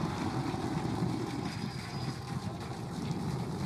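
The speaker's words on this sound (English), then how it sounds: "Booster Landing burn. Seeing 13 engines." Distant roar of the SpaceX Starship Super Heavy booster's landing burn on 13 engines, a steady, broad rumble heard from afar with wind-like hiss.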